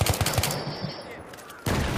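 Rapid gunfire in the Battlefield 3 video game, a close burst of shots in quick rhythm, then a lull with distant rumble before another loud burst begins near the end.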